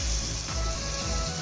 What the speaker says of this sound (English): This is the nice sizzle I love